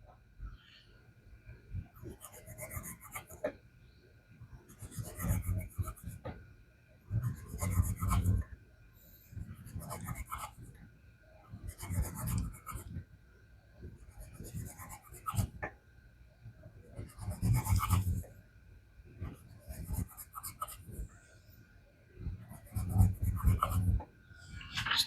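An EDC knife blade, 8Cr13MoV or D2 steel, slices repeatedly during an edge retention cut test, giving a steady rhythm of close rasping, rubbing strokes about every two seconds.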